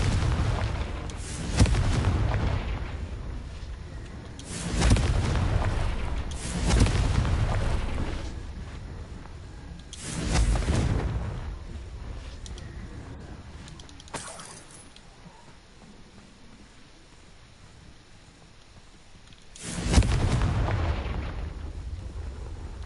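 Spell explosions from Confringo and Incendio in Hogwarts Legacy burst in a series of about six heavy booms with fiery rumbling tails, spaced irregularly over quieter game ambience.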